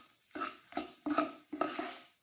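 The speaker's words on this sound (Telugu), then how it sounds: "అంతా ఓసారి కలపండి ఫ్రెండ్స్." Spices such as turmeric, salt and chili powder are stirred into a snack mixture in a pan, giving three separate bursts of scraping and clinking with short pauses between them, close by with no talk.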